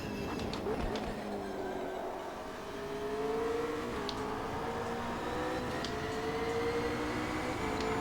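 In the racing game Automobilista 2, a GT3 race car engine drones and shifts pitch through rising and falling revs, steady and fairly loud with no talk over it.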